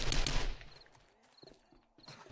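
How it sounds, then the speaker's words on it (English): Rapid SMG fire from a submachine gun in the survival game 7 Days to Die, a dense burst opening the moment, then quieter scattered shots and a final short burst at the end, with no talking. "The SMG's pretty nice. I guess it does burn the ammo pretty quickly"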